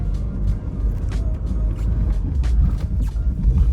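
A BMW E36 Compact fitted with E30 axles and a Z3 limited-slip differential drives on a bumpy road, heard from inside as a steady, loud low rumble of engine and road noise with faint knocks and rattles.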